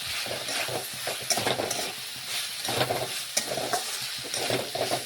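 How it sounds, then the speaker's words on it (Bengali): Potatoes and carrots cooking in a pan while being stirred, a continuous sizzle with repeated scraping strokes and soft clatter, close by. "এখন আমি আবারও নাড়াচাড়া করে নিচ্ছি, আবার একটু আলু গাজর রান্না করে নিচ্ছি"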